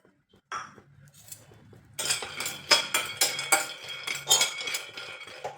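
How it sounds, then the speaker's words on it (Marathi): Peanuts dry-roasting in a pan for a curry leaf chutney, stirred with a metal spoon: a rapid run of light clinks and rattling scrapes against the pan, close and crisp, with quieter stirring before it. "आता आपल्याला दुसरा जिन्नस भाजायचे शेंगदाणे भाजून घ्यायचे"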